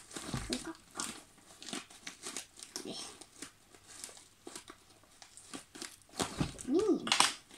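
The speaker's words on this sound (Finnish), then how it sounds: "Mä leikkaan ne heinänkuoret poikki." Nail scissors snip open a hay bag's packaging, giving quiet, close crinkles and rustles of the wrapper in uneven bursts, mixed with soft talking.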